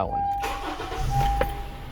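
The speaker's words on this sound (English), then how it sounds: "You're gonna start it up till the oil light goes away." A 2012 Honda CR-V engine cranks and catches, settling into a running rumble right after an oil and filter change, with a steady chime tone sounding over it.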